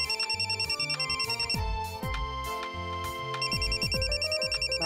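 A phone rings with a repeating electronic ringtone melody, steady and moderately loud, running throughout with a musical backing and no talk.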